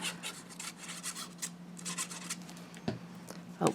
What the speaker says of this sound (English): we're going to burnish